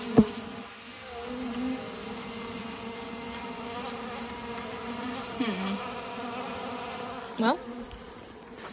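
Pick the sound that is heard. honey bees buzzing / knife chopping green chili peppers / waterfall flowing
honey bees buzzing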